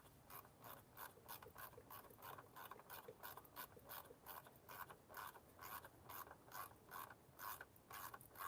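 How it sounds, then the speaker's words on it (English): Small ratchet tightening a 7 mm clamp during a wet timing belt change on a Ford Focus EcoBoost: steady, rhythmic clicking strokes repeated through the clip, close and fairly quiet, no talking. "There's my little ratchet."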